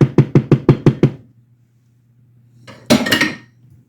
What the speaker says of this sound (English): I am going to move it to the burner over here to the left